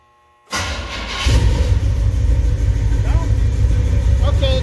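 A 1971 El Camino engine cranks and starts with a loud burst, then settles into a steady, rumbling idle close by.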